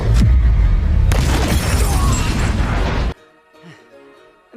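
A loud explosion of alcohol, set off by a slingshot pellet in a live-action One Piece scene, roars and crackles for about three seconds before cutting abruptly to quiet, with faint sounds afterward.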